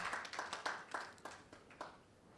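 Faint, brief applause from an audience at a school quiz balloting event, a short scattered patter of claps that fades out within a couple of seconds.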